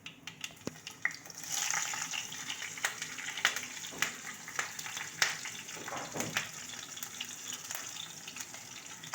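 Green chilies frying in hot oil with a pinch of asafoetida for a jackfruit vegetable dish, giving a steady close sizzle broken by frequent small pops and crackles, with no talking.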